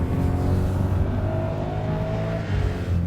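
A Maserati Quattroporte on an autocross course holds its engine near redline, a loud, sustained strained drone close by with a faint tire noise beneath.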